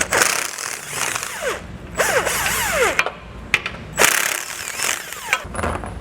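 An 18mm socket on a ratchet or power tool removes the factory bolts from a 2022 Audi Q8, giving repeated loud mechanical whirring and ratcheting bursts with sharp clicks between them, close up and with no talking.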